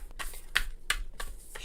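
Oversized astrology cards are handled and split by hand, giving a few crisp slapping and rustling taps spaced across a second or two, close and fairly loud with no talk.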